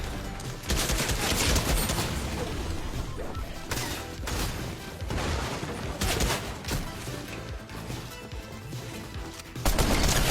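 Sustained automatic fire from the Striker AR assault rifle in Fortnite, with fast, loud bursts coming in waves and a sharp, heavy volley at the very end.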